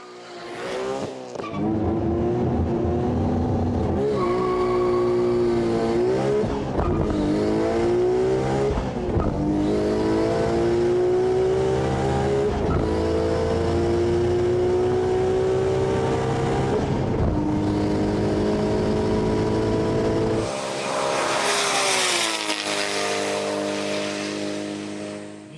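A tuned Nissan GT-R makes a 0-300 km/h run, its engine revving loudly through repeated rising gear pulls with brief shift breaks, close and continuous, ending in a harsher burst near the finish.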